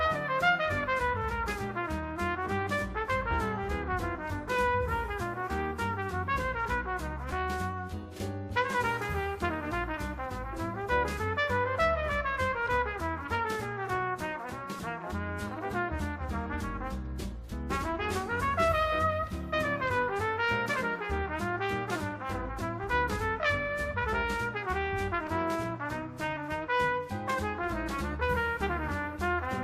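Solo trumpet plays a jazz etude from a trumpet study book, a continuous stream of fast, steady notes at full volume with brief breaths between phrases and no talk.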